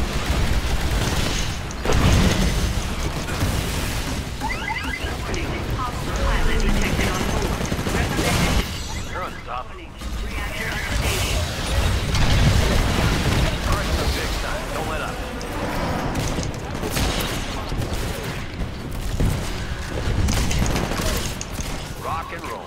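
Burst-fire gunfire and explosions in the Titanfall video game: dense, loud bursts of shots and booms that keep going throughout, mixed with game effects under constant action.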